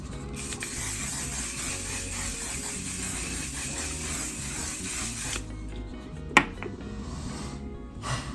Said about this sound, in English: Let's spray the face down a little bit.